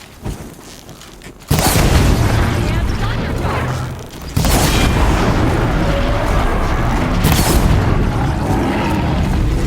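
A Horizon Zero Dawn disc launcher fires with heavy booming blasts, one large impact followed by another a few seconds later, filling the mix loudly over dense battle noise and a voice.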